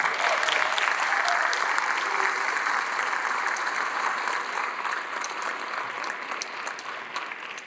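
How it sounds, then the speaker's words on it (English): A crowd applauds at a high school graduation ceremony, producing a dense, sustained wash of clapping that stays loud and slowly fades a little over several seconds, with no speech. "Yes, you may clap."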